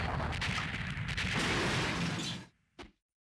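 Hyper gun fire in the Shock Troopers arcade shooter, a dense, loud, continuous barrage that cuts off abruptly, followed by one short final burst and then silence.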